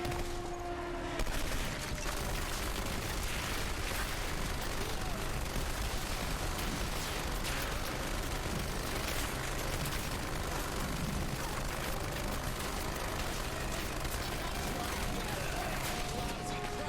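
Rockets and grenades go off in the Turning Point: Fall of Liberty shooter, a steady roar of distant blasts and gunfire running the whole time, faint under occasional talk.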